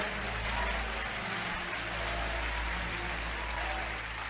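A church congregation applauds steadily throughout, a dense, even wash of clapping with a low rumble underneath and no clear voices.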